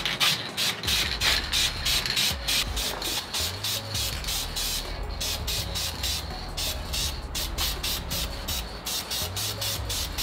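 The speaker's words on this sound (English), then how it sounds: "that actually looks so good for a can of spray paint" Spray paint can coating a Subaru engine bay, rapid repeated hissing bursts of aerosol, close and fairly loud, with short gaps between passes.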